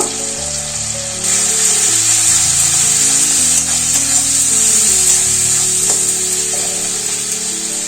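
Tomato softened in a pan sizzles and fries loudly and steadily as Kashmiri chili powder goes in, a continuous hiss with faint stirring scrapes and no voices.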